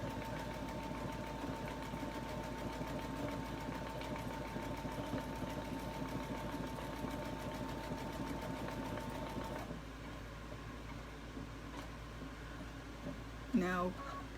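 A sewing machine runs steadily for about ten seconds as it stitches decorative stitches on a quilted table runner, a close, even mechanical hum that then stops. A soft voice talks throughout.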